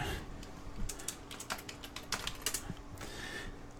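A folder name is typed on a computer keyboard in a burst of close, quick keystrokes with small pauses between them, clicking steadily over a faint electrical hum and with no voices.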